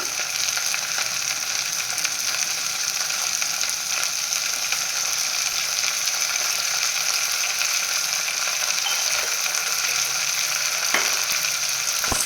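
Okra, chopped tomato and salt frying in a pan for bhindi masala, a steady, dense, close sizzle that holds evenly throughout with a faint clink near the end.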